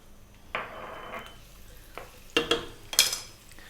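Onions and garlic frying in olive oil in a pan over medium heat: a steady low sizzle broken by several sharp bursts of hiss and metallic stirring clatter, close and moderately loud, with no talking.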